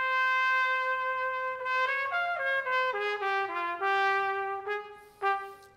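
Solo trumpet playing a melodic line in the Ethiopian Ambasel mode with an orchestra, sustained clear notes moving stepwise in a slow phrase, close and alone with no talking.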